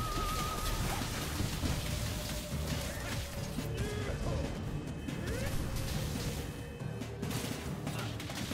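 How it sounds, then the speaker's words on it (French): Rain falls steadily in a video game, a dense wash of drops with rumbling low noise throughout, joined by faint tonal game sounds and occasional crashes. "Il pleut."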